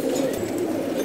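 Pigeons in a loft give soft, low cooing close by, a continuous throaty murmur over the brief moment.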